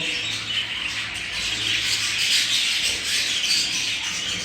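Young budgerigar chicks keep up a dense, steady chorus of high chirps and squawks at moderate level throughout, with no voices.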